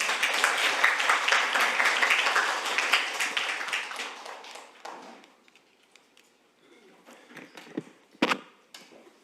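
An audience at a parliamentary research service briefing claps to welcome a presenter. The steady applause thins after several seconds into a few scattered claps and thumps.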